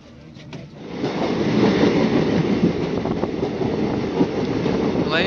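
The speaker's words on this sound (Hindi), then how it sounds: "ये ट्रेन यहाँ से चल दी" Local Kashmir passenger train running from Srinagar to Banihal, a steady close rumble of wheels and carriage with faint rhythmic clatter building after a quiet start, no talk over it.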